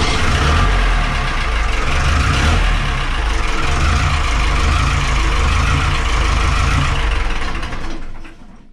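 An old inboard engine on an abandoned sailing yacht under restoration runs steadily and loud for about eight seconds, a dense continuous rumble that cuts off near the end.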